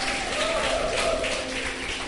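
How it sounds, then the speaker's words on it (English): A studio audience at a televised debate applauds the judges, a steady wash of many hands clapping at moderate volume with no break. "Give it up for the judges."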